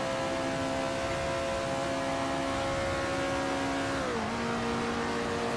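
An Alfa Romeo 33 Stradale in the racing game Assetto Corsa accelerates hard past a Ford, its engine note a steady, loud drone that climbs and then drops sharply as it shifts gear.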